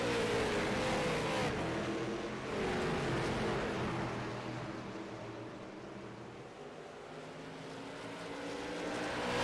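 A pack of stock cars racing at Nashville in the iRacing sim accelerates out of turn four for a restart, a steady, loud engine roar that dips slightly midway and swells again.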